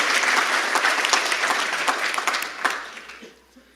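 An audience applauds at a keynote address by Arm CEO Rene Haas. The clapping is loud and dense, holds steady, then thins and fades away over the last second.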